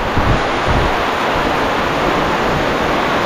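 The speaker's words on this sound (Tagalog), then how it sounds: "Grabe, lakas ng hangin doon" Strong wind roars steadily and loudly throughout, a broad rushing noise with gusty buffeting against the microphone and no voices.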